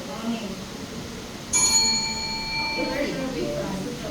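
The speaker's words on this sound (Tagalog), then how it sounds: "adunay bell nga butingog ug pasubot kini nga walot na ang oras sa pag-deliver sa ilang argumento" A single bell rings midway through a classroom debate to signal the end of speaking time, its clear ding lingering for about a second and a half over ongoing room talk.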